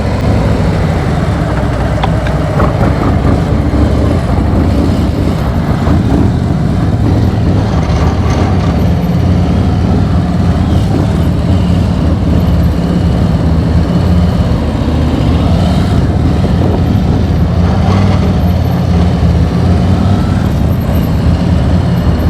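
A motorcycle engine runs steadily and loudly throughout, close to the mic, as the rider loops through a tight figure-8 at low speed in an open practice area.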